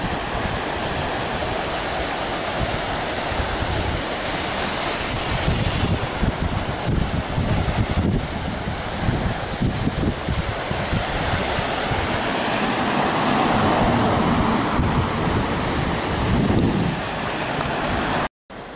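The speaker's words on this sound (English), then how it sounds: "this is a mill race, and once upon a time that was a mill" Water rushing steadily through an old mill race at a former mill in Courcay, a continuous loud outdoor roar with some wind buffeting the microphone throughout.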